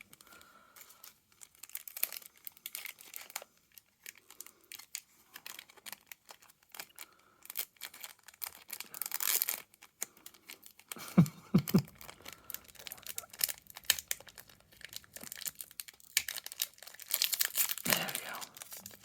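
Magic the Gathering Dominaria United box topper packaging being opened; intermittent close crinkling, tearing and rustling of plastic and card, quiet bursts scattered irregularly, with occasional louder tearing toward the end.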